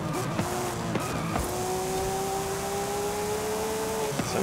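A GTR4 race car tears around a Forza Horizon track: a loud, close engine roar with sustained tire squeal and skidding that rises and falls through the turns.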